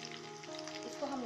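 Banana chips frying in hot oil until crisp, a steady dense sizzle with small pops and crackles, close and continuous throughout.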